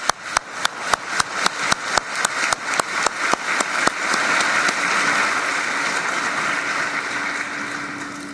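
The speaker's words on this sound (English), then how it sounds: "Let's applaud the people of these territories." At a COP29 world leaders' session, a large audience claps in a slow, rhythmic unison beat for about four seconds, then dissolves into a dense, sustained wash of applause that gradually fades.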